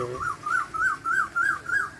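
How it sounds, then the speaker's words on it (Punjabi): A koel calls repeatedly in a steady rhythm, six rising whistled notes evenly spaced, fairly close and clear with no voices, among farm fields. "ਉੱਤੇ ਵੇਖੋ ਆਵਾਜ਼ਾਂ ਪੰਛੀਆਂ ਦੀਆਂ ਆਉਂਦੀਆਂ ਕੋਇਲ ਬੋਲਣ ਦੀ ਆ"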